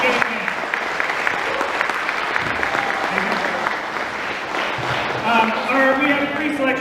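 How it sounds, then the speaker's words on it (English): An audience at a winter band concert applauds steadily throughout, a dense patter of clapping, with a voice speaking over it near the end. "give a round of applause anyway"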